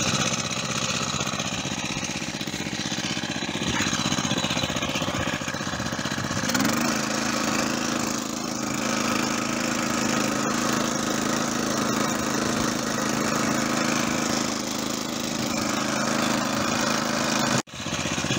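A 2020 Vari walking tractor with a Honda GCV 160 engine drones steadily and close while clearing winter snow, its note rising and settling under load with no talking.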